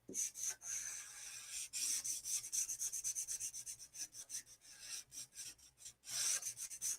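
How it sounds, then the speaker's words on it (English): A chisel-tip Sharpie marker drags across paper in long inking strokes, a close, dry rubbing squeak that repeats in quick rhythmic passes with brief pauses between. "Doing this with a chisel tip Sharpie. These long, dark strokes."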